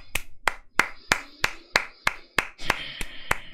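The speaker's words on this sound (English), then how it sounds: "A round of applause for these, man." Eleven sharp hand claps at a slow, steady pace, each a crisp close smack with a little room ring, the last few slightly busier.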